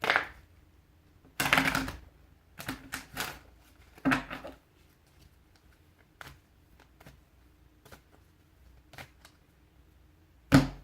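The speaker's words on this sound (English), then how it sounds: "And you got one more shuffle." Tarot cards are shuffled in short bursts, crisp riffling and tapping separated by quiet pauses, close and fairly soft with no talk.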